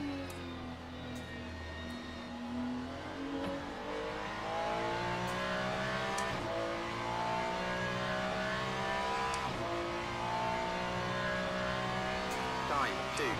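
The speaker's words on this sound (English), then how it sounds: "the engine sounds completely different in this game" Race car engine in the Le Mans Ultimate sim, revving steadily with rising and falling harmonic sweeps through gear changes, loud and continuous, with occasional sharp shift blips.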